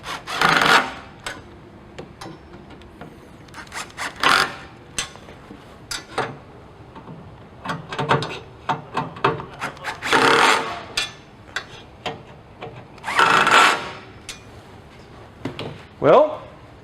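Screws are driven into the front plate of a FlexKraft power module during removal and replacement, giving short, scratchy bursts of turning and rubbing, repeated in several close bursts with pauses between them.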